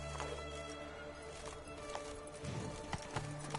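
Horse hooves clip-clopping in The Witcher 3 video game, a quiet rhythmic series of hoofbeats with soft game ambience, no speech over it.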